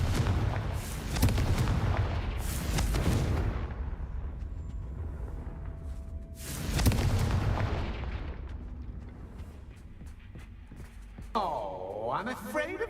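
Booming Confringo fire-blast spell explosions in Hogwarts Legacy, two big roaring blasts a few seconds apart that fade into rumbling tails, ending in a swirling whoosh, with game voices mixed in.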